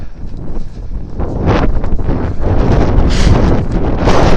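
Strong, unpleasant wind gusting outdoors, loud roaring buffets battering the microphone in continuous surges with no voices.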